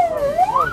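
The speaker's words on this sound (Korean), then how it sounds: "요란한 사이렌 소리로 사전 경고 울려주고" An emergency vehicle siren wails in a smooth rising and falling tone, loud and steady, as it races along a road to a traffic accident, with no voices.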